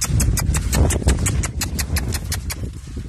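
A horse's hooves clip-clop in a quick, regular rhythm close by, loud and distinct over the short stretch.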